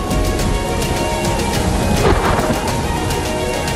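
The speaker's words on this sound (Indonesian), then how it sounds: "guntur kilat menyambar berkali-kali" Loud rolling thunder from a lightning storm, a continuous dense rumble with a heavier crack near the middle, steady and close throughout with no voices.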